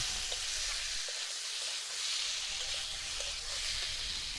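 Vegetables, cauliflower and pumpkin, sizzling steadily in a little mustard oil, a continuous close bright hiss and crackle with faint stirring knocks and no talking.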